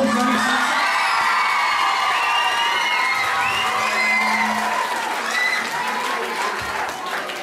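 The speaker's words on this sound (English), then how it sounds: "Give Johnny a round of applause." A rugby club crowd at Tullow RFC applauds a Leinster player, with loud continuous clapping mixed with cheers, whoops and excited children's shouts that taper slightly toward the end.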